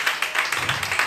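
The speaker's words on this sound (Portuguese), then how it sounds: "Aplauda o Senhor Jesus porque Ele está aqui." A church congregation claps in a quick, even rhythm, about six or seven sharp hand claps per second, close and fairly loud with no talking over them.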